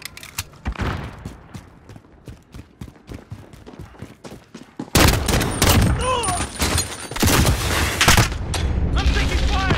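Heavy video game gunfire, with sparse distant shots at first, then a loud sustained barrage of close bursts and booms, with radio-style voice callouts mixed in.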